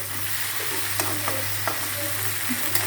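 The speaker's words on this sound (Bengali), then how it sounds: "আমার ভাজিটা হয়ে গেছে, একটু লাগিয়ে গেছিল।" Vegetable bhaji being stir-fried in a pan, slightly sticking to the bottom, gives a steady close sizzle broken by occasional scrapes and taps of the spatula against the pan, with no voices.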